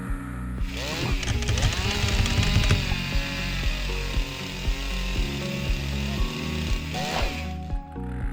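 A chainsaw runs loud and close, its engine droning steadily while the chain bites through wood, revving up at the start and again near the end.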